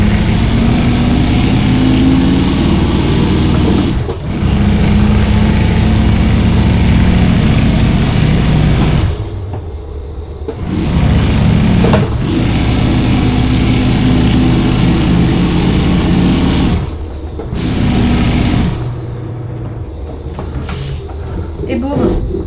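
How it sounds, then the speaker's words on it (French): A powerful truck hauling an excavator in a video game roars with a loud, steady engine drone that briefly drops away a few times before surging back. "Le bruit du camion qui est quand même impressionnant."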